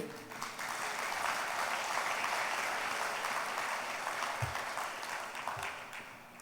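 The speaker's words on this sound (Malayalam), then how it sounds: "ഒന്ന് കൈയുയർത്തി കൈയടിച്ച്" A church congregation in an auditorium claps hands together with raised arms at a wedding-day sermon, a dense, sustained round of applause filling the whole stretch, fairly loud and even, easing slightly toward the end.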